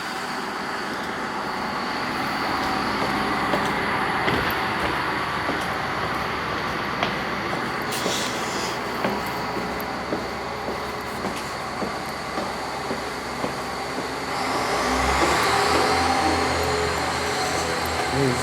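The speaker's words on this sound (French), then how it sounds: "On va dans la gare." Trains inside a railway station: a continuous reverberant rumble of rolling stock, with clanks and rail squeals and a rise in low engine noise near the end. No one speaks.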